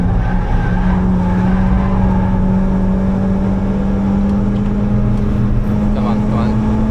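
A Ford Fiesta ST150 at full throttle on the Nürburgring, its engine droning steady and loud from inside the cabin with road and wind noise, a voice talking over it.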